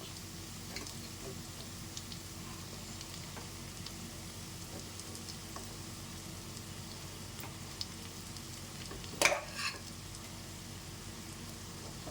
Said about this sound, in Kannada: ಆಲ್ರೆಡಿ ಅನ್ನ ಮಾಡಿಟ್ಕೊಂಡಿರೋ ರೈಸ್ನ ಹಾಕಿ ಕಲಸಿದ್ರೆ ಆಯಿತು.